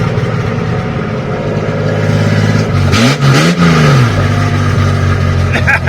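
A loud, raw 1971 Series 1 Datsun 240Z engine runs with no exhaust fitted at a steady rumble, then briefly revs up and settles back down.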